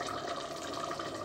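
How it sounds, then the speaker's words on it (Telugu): Cooked lentils (dal) poured into a carrot and zucchini curry, making a soft, continuous wet sloshing and gurgling pour, faint and close. "ఇప్పుడు పప్పుని ఇందులో వేస్తున్నాను"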